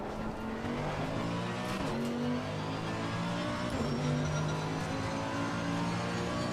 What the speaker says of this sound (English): that's an angry V8